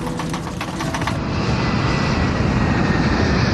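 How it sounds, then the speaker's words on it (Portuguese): Airplane vibrating and diving out of control: a loud, continuous roar of engine and rushing air that starts with a rhythmic rattling pulse, then swells into a steady dense rumble, no voices. "o avião começa a vibrar e a mergulhar sem controle"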